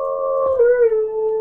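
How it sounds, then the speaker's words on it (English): A dog howls in one long, sustained note that dips in pitch partway through. The howl is fairly loud and close, and no one talks over it. "That's our dog."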